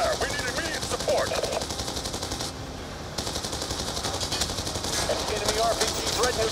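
Heavy machine-gun fire pours onto a convoy in Call of Duty: Black Ops 2, with rapid, sustained bursts and a roaring vehicle bed beneath, briefly easing near the middle before resuming.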